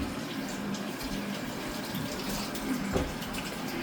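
Tap water runs steadily into a sink while potatoes are washed, a continuous close hiss and splash with a slight bump near the end, no voices.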